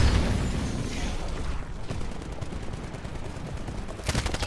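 Weapons firing in the mech shooter Titanfall: dense, rapid automatic fire rattles on almost without pause, loud and close, with a heavier booming burst near the end.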